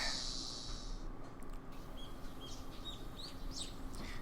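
Birds chirp in the morning in the video game Higurashi When They Cry, 1983 rural Japan setting, with a bright burst at the start and then repeated short tweets over a steady ambient hiss.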